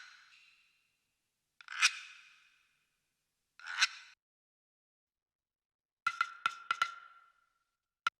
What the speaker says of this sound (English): This is a shaker, but I have it here with the percussions.